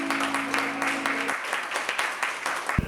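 An audience applauds after a professor sings at a lecture on music composers, a dense, continuous clapping crowd filling the space, with a low tone fading out early and a thump at the end.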